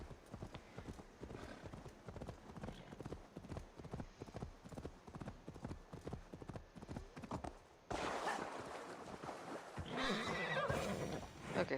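Steady rhythmic clip-clop of horse hooves in a video game, punctuated by whinnies, running for several seconds before shifting to a louder, brighter ambient scene without hooves.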